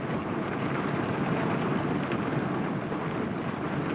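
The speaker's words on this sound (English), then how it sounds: "It's raining pretty damn hard." Heavy rain pours steadily and loudly, a dense continuous hiss and patter with a low rumble, no voices.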